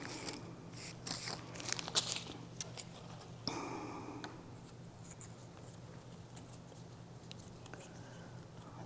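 Faint crinkles, ticks and scratchy handling noises come from 18-gauge floral wire being worked around flower stems for a Sogetsu arrangement, busiest early on and thinning to a quiet low hum, with no talk.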